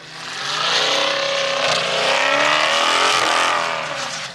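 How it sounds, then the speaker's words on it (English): Dodge Hellcat's supercharger whining loudly as the car drives through snow, a continuous high rising engine scream with tire noise, close and sustained without speech. "Listen to that super whine."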